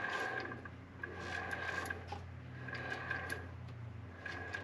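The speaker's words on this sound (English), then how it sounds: "go ahead and just spin the clutch while the machine's in neutral" A Yamaha Wolverine RMAX 1000 with a Weller Racing clutch spins in neutral, giving a steady mechanical whir and low hum with faint rhythmic ticking throughout.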